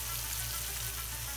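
Sauces hitting hot spaghetti in a pan set off a steady, soft sizzle with fine crackling, even and unbroken throughout, fairly quiet and with no talking.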